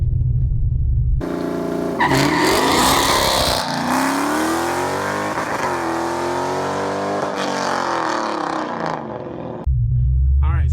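A car launches at 3,500 RPM on Mickey Thompson ET Street SS tyres, its engine roaring loud and rising through the gears for several seconds, with a brief tyre chirp at the start and idle rumble before and after.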